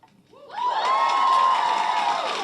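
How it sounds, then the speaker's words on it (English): An audience cheers after a Harry Styles Tiny Desk performance. Loud whoops and screams swell quickly and hold for about two seconds in a dense, close crowd roar. "Cheering."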